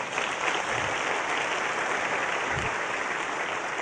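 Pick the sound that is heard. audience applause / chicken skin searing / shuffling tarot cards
audience applause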